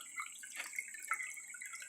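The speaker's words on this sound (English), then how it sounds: "I've got water flowing out the overflow" Water trickles out of an overflow into a bucket as a faint, thin stream with light, irregular splashing and drips that continue steadily, close by and alone.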